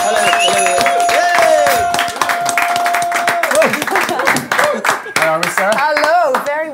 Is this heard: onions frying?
no